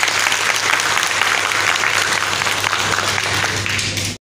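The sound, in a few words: audience applause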